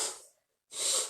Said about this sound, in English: I really did not want to blow my nose on camera or on live